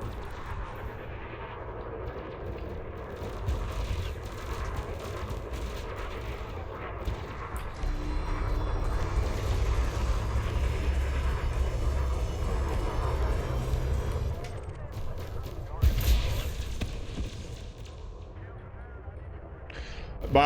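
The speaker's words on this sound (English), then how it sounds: "My multi-cannons are running overcharged autoloader." Overcharged multi-cannons with autoloaders fire in a space combat game, sounding as a continuous dense rumble of rapid booming shots that swells and eases over about twenty seconds, with a person talking over it.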